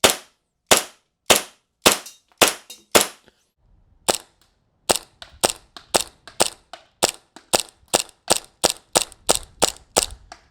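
An airsoft pistol rated around 1.1 joules fires a string of sharp, close snapping shots, first in a spaced rhythm, then after a short pause in a faster, steadier volley.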